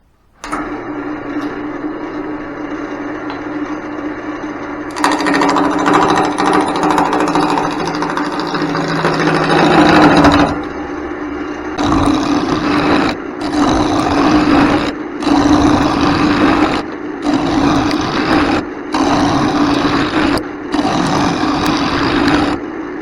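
A wood lathe spins a handle blank while a spindle roughing gouge rounds it over, giving a steady motor hum under loud, close chattering cuts that come in repeated bursts with short pauses between passes.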